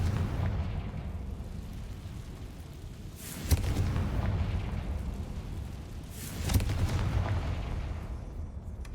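Two deep booming blasts from the Confringo fire spell in the Hogwarts Legacy video game, each a sharp crack swelling into a rumbling explosion, spaced a few seconds apart over low ambient rumble.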